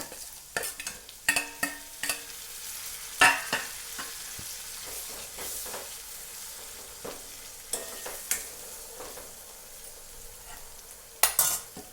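Tomatoes are added to a pan for an eggplant and pigeon pea curry, frying with a soft sizzle under intermittent scraping and knocking of a spoon against the pan as they are stirred.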